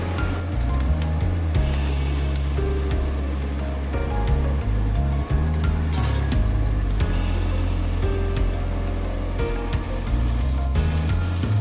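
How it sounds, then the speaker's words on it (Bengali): Ground spice paste frying in hot oil for chicken chow mein, a steady loud sizzle and crackle running continuously without talk. "আমি আরও দু চামচ সাদা তেল দিয়ে দেব এবার বাটা মশলাটা ভালো করে ভেজে নেবো"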